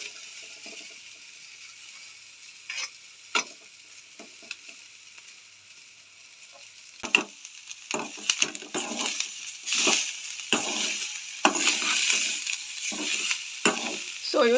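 Grated coconut roasting in a pan for Goan chana ross, stirred with a spoon: intermittent scraping and rustling strokes grow busier and louder in the second half over a faint steady sizzle, with no talk.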